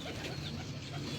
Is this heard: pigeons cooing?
yes